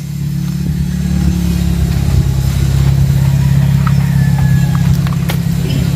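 A car engine idling under the hood, a loud steady low hum that holds evenly throughout, close by with no talk.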